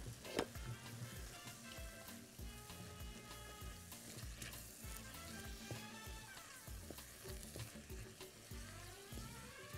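Minced meat seasoned with ginger, salt and pepper fries in a pan for macaroni béchamel, giving a steady close sizzle broken by scraping stirs, with no talking.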